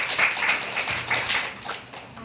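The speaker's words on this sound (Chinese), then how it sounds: "我们用最烈的掌声欢迎雅洛来跟各位做分享。" An audience applauding to welcome a speaker on stage at a Taipei talk event, a continuous patter of many hands clapping at a moderate distance, steady throughout with no voices.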